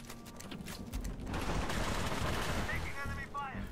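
Rapid bursts of gunfire from the Halo Reach video game build into a sustained rattling barrage, with a few electronic whines and chirps toward the end.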